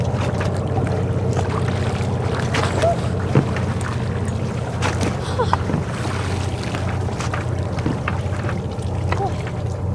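A sailboat's motor rumbles steadily while water churns and splashes in its big wake, with wind buffeting throughout.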